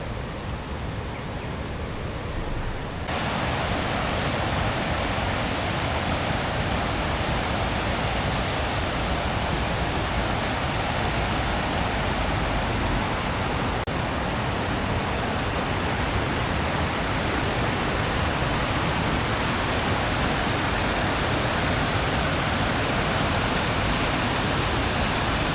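A waterfall roars in a dense, steady rush of water, loud and close, with no breaks and no voices.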